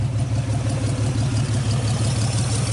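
A 1948 Nash car engine runs steadily just after its first start, a low, even idle with a continuous rhythmic rumble, loud and close with no pauses.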